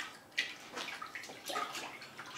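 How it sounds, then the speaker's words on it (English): Nano tape is washed off in a bucket of water, giving a few soft splashes and sloshing swishes, close and fairly quiet, with no talk. "Now let's get our bucket of water, wash it off, and put it back on the bricks."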